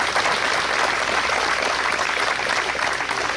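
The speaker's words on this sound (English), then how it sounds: "Round of applause for them." A crowd at a WW2 battle reenactment at a village museum applauds the reenactors with dense, loud, continuous clapping from many hands.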